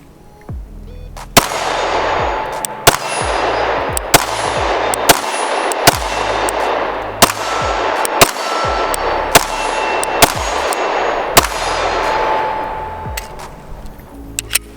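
Repeated pistol shots from a Glock 43X, about a dozen sharp loud cracks at a steady, fairly quick pace, each followed by a ringing decay, with no talking.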